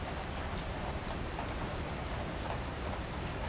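Steady, heavy rain hissing down without pause in the video game Love & Deepspace, a dense wash of drops with a faint low rumble of thunder beneath.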